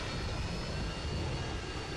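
A Harrier jet killstreak in a first-person shooter video game roars overhead as a continuous, dense broadband jet rush, steady and fairly loud throughout with no voices.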